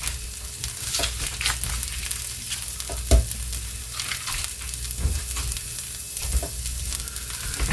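Butter sizzles steadily in a pan for breakfast burritos while a utensil scrapes and stirs, with occasional sharper knocks against the pan over the constant hiss.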